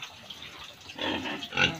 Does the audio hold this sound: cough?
no